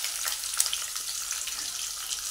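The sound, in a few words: onion frying in oil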